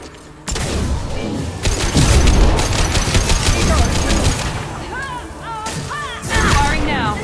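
Sustained rapid gunfire fills a firefight in Mass Effect 2 Legendary Edition on Illium, with dense overlapping bursts and automatic fire running loud and close nearly throughout, while brief electronic chirps and a voice come through near the end.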